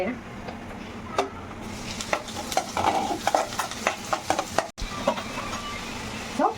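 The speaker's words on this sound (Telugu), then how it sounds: "ఆనియన్స్ కొంచెం బ్రౌన్ కలర్ వచ్చేదాకా వేగనియాలి" Onions fry in a pan for bagara rice gravy, a steady close sizzle with frequent clinks and scrapes of a stirring spoon, while someone talks over it.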